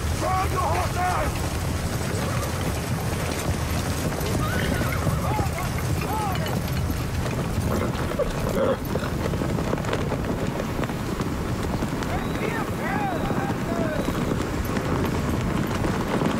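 Horses of an attacking army on a battlefield, hooves thudding and clattering in a dense, continuous rumble under wind and shouting voices.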